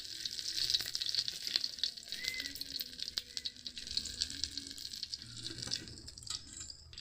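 Five-spice seeds and a chilli frying in hot oil, a crackling sizzle with small popping and rattling bursts throughout, close up and without speech.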